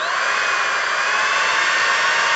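A Calz Iron swivel bearing on a coil-building rig spins steadily at about 2,800 RPM, giving a loud, continuous high-pitched whirr that holds constant without a break.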